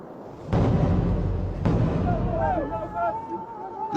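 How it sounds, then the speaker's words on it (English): Two deep booming blasts from mining explosions inside an aquamarine mine tunnel on a mountain, each a sharp thud with a rumbling tail, heard at a distance, with muffled voices and echoing noise after the second. "The miners count the explosions one by one"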